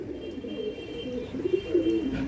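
An old-bloodline male domestic pigeon coos close by in soft, low, rolling murmurs that swell and fade, with a slight rise in the final second.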